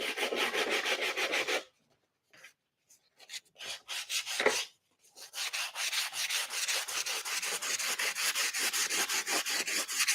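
Sandpaper rubs over painted wooden home decor in steady, rapid back-and-forth strokes. The strokes stop briefly for a few scattered scrapes, then resume as a continuous rhythmic rasp.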